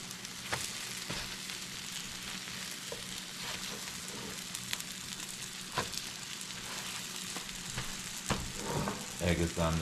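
Beaten omelette eggs sizzle in a hot frying pan on the stove, a close, steady crackling hiss with occasional small clicks and scrapes.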